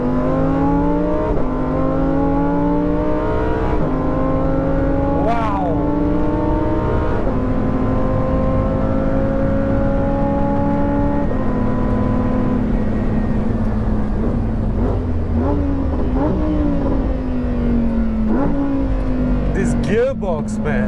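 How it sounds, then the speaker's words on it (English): A Lamborghini Huracan STO is driven hard around Sepang race track, its engine loud and close as it rises and falls through repeated sharp gear changes under heavy braking, with someone talking over it throughout. "I'm braking from over 200 kilometers per hour and I'm braking hard."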